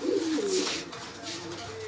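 Pigeons coo in a low, repeated warble close by, with a green-necked female among the birds; the cooing rolls on steadily against a soft background hiss and no talk.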